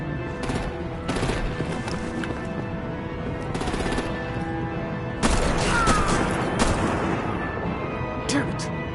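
Heavy bursts of artillery and automatic gunfire in the Batman: The Enemy Within video game, coming in loud repeated volleys with short gaps between them, mixed with crashes and game sound effects.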